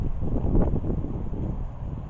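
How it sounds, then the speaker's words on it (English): Wind buffets the microphone in a low, rumbling roar that stays steady and loud for a couple of seconds. "A little windy out here today"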